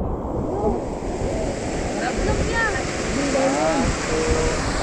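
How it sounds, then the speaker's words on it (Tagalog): Ocean surf roars steadily, close and loud. Faint voices and shouts rise over the wash of the waves. "Alon."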